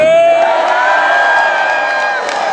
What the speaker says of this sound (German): danach bitte laut jubeln